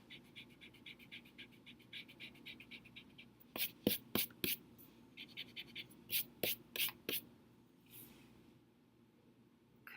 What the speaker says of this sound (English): I'm going to draw a line that cuts it off right about there